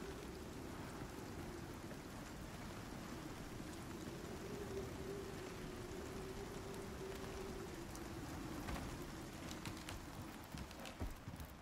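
A steady, even rain shower falls in the survival video game Icarus, a constant soft hiss with no voices over it.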